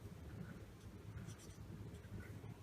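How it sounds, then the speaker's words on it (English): Pen scratching on paper as a chemical equation is written out by hand, faint and quiet, with short strokes in a steady irregular rhythm. "First of all, we'll write down the equation."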